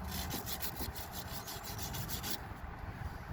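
Close, rhythmic back-and-forth scrubbing as a brush works over the corroded battery terminal ends of a truck, with steady repeated strokes for about two and a half seconds before the motion eases.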